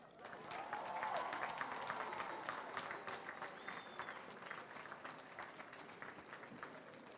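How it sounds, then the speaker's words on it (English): Sustained applause from a high school graduation audience, steady clapping that swells early and then holds at an even level for several seconds, with no talking over it. "Please join me in a tremendous round of applause"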